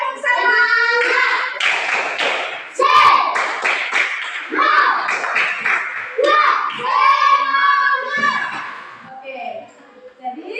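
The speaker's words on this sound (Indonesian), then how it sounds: "1, 2, 3, tepuk semangat." Children in a classroom doing a rhythmic spirit clap, tepuk semangat, with bursts of hand claps mixed with chanting kids' voices, loud and close, running continuously throughout.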